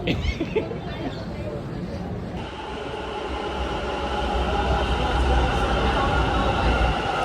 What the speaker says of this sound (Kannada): ಸೊ ಮೆಟ್ರೋ ಬಂತು